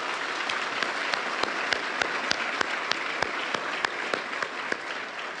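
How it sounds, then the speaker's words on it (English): An audience at the opening of a children's hospital gives sustained applause, dense steady clapping with sharp individual claps standing out throughout, with no speech over it. "And I think we owe these dedicated people a very heavy round of"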